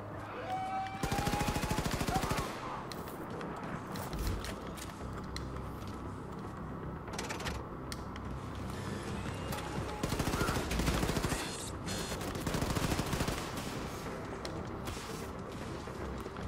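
Sustained bursts of automatic gunfire in the shooter game Wolfenstein II, rapid loud volleys around two, seven and ten to thirteen seconds over a steady bed of game noise and effects.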